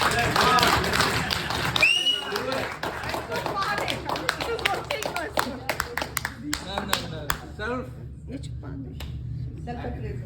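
Audience members at a commemoration event in the Washington DC area clap loudly at first, then the clapping thins into scattered, distinct claps as it dies away, with voices talking over it.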